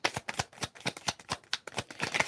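Tarot cards being shuffled by hand, a quick run of crisp flicking riffles and slaps, close and moderately loud, with no talk.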